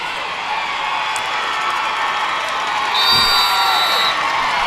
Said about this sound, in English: Tuscola Mountaineer crowd. You can hear them all the way over on the home side.